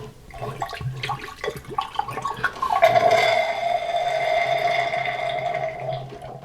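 Cleaning liquid is poured down the drain of a home freeze dryer, a steady gurgling, draining trickle that builds midway and runs on for several seconds, close and fairly loud.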